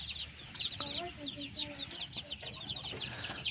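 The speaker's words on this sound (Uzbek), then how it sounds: "Jo'jalarimizni ko'rinish." Ten-day-old chicks raised at home cheep in a dense, continuous chorus of thin, high peeps, with a few lower calls briefly mixed in.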